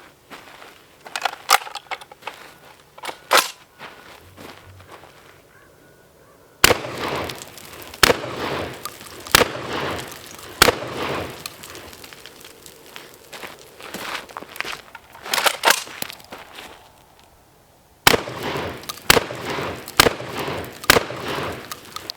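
A shotgun fitted with a Streamlight TLR-1 HL and a Harbor Freight replica weapon light fires rounds as sharp, loud blasts in irregular clusters, with quieter handling noise between the groups of shots.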